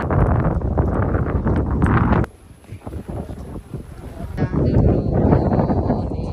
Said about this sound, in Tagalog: typhoon na to sa kanila yung hangin na to